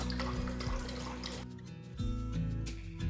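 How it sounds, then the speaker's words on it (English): Water pours into a cooking pot before rice is added, a close gurgling stream that pauses briefly midway and then resumes. "Pour some water to a pot."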